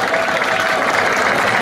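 Loud, dense crowd applause and cheering at a DJ battle, a steady unbroken roar of clapping close up.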